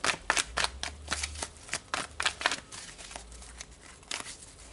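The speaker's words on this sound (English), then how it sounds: "Let's go ahead and add a tarot card to this." Tarot cards are shuffled by hand nearby, a run of quick papery riffles and flicks in uneven bursts with short pauses between.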